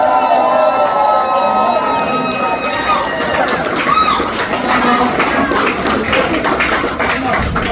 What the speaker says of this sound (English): please give a big round of applause for Tailana